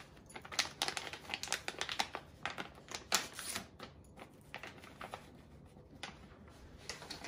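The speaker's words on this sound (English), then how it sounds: "Then you tear the lower part to take out the gloves." Plastic packaging for pet grooming gloves being torn open and crinkled by hand, a close, busy run of rustling and ripping bursts with no talking.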